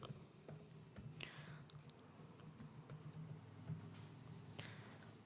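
Computer keyboard keys tapped in short irregular bursts while a password is typed, faint and close over a quiet hum, with a soft murmur of background sound.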